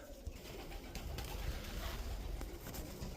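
Pigeons coo softly at a racing pigeon loft in autumn, low murmuring calls under a steady broadband hiss of wind or background noise, with no talk.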